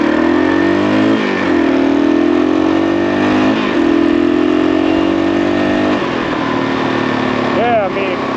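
A used Gen 1 Kawasaki KLR 650 motorcycle pulls away on the road, its single engine droning loudly and rising in pitch through steady acceleration, with brief dips between gears.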